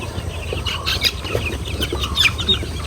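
Tiger chickens at a poultry market cluck and chatter in short, close bursts over a busy low background rumble.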